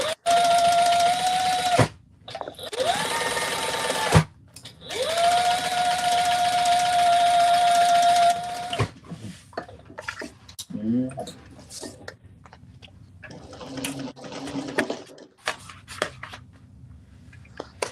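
A sewing machine runs in two long, steady bursts for top stitching, a close mechanical whir that stops and starts, followed by quieter handling noise and people talking.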